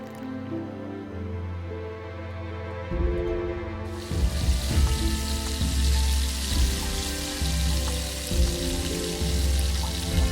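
Dough enriched with suoyang fries in hot oil: a quiet start, then a steady, dense sizzle and bubbling that swells loudly and continues unbroken.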